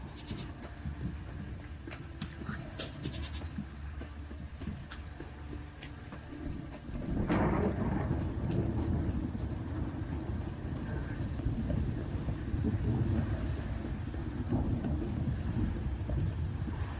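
Heavy rain falls in The Witcher 3, a dense constant hiss that swells louder about midway as a deep rumble of thunder rolls in, with a faint animal bleat early on.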